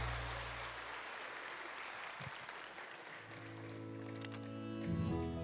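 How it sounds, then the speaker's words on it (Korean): Applause from a church congregation during a Sunday worship service, a broad steady wash of clapping that carries through the whole stretch with faint tonal sounds rising near the end. "다시 한번 큰 박수해 주시기를 바랍니다."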